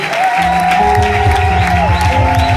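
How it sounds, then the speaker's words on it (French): A church congregation cheers and acclaims together, a dense, loud wash of voices and shouts with a sustained sung or cried tone running through it. "j'aimerais que vous acclamiez le roi des rois"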